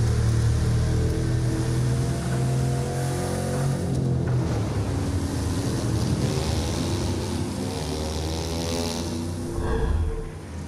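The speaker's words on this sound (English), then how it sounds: "Tame, unpredictable waves on the open ocean, rapid waters" A powerboat in a Ubisoft video game drones loudly across open ocean waves, its engine steady and close with rushing water and spray, ending in a brief surge before dropping off.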